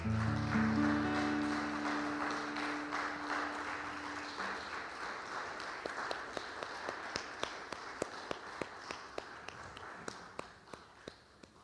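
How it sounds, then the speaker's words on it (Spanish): Church congregation applauding after a sermon, a dense wash of clapping that thins toward the end into a few scattered claps, with lingering organ-like tones fading early on. "Dale un fuerte aplauso al Señor."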